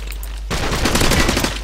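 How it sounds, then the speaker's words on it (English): Rapid, loud gunfire in a video game erupts after a brief quieter moment and continues as a dense, close burst of shots. "You guys are shooting me from two angles."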